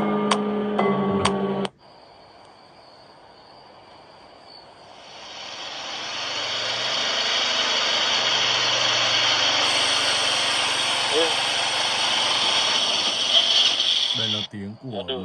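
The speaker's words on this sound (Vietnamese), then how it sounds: "một chiếc xe máy" Motorbike engine in a Slendrina horror video game, a steady broadband drone that swells after a brief opening and holds loud and close for most of the stretch before cutting off near the end.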